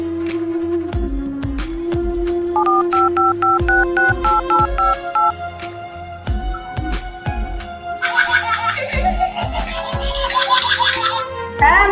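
Telephone keypad tones sound in a short stepped run of beeps as a character in a Bengali comedy sketch dials a call, set over a steady musical backing with bright chimes near the end.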